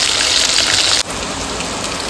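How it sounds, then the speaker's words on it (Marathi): Ground onion and coconut paste fries in hot oil with a loud, dense, hissing sizzle that drops abruptly to a softer but steady crackle about halfway through. "त्याला छान आता तेलात भाजून घेणार"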